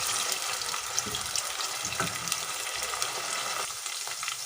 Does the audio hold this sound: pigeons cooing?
no